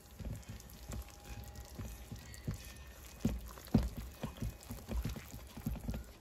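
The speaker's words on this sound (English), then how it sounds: "I'm just gonna stir that until it's just combined." Wet and dry ingredients for chocolate banana muffins are stirred together in a bowl, giving soft, irregular wet squelches and light scraping taps close by throughout, with no talking.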